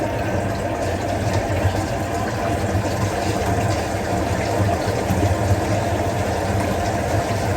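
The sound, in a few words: water running from kitchen sink tap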